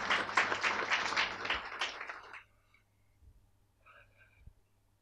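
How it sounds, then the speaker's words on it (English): Audience applause at a community medical talk on Lyme disease, a brief burst of clapping that stops abruptly after a couple of seconds, followed by near silence with faint scattered sounds. "So they deserve a round of applause."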